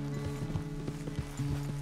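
Horse hooves clip-clopping at a steady trot in Red Dead Redemption 2, fairly close and even, with a low hum beneath and no talk.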